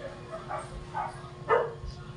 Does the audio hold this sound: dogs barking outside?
yes